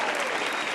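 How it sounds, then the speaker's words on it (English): A brief, dense burst of applause from a small group, a wash of many clapping hands at steady loudness with no voices over it. "Round of applause."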